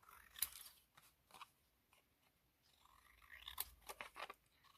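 Scissors trimming the bottom edge of paper for a document journal, two short bursts of crisp close snips separated by a quiet pause, with no voices.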